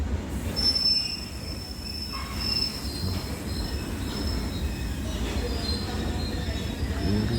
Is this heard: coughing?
no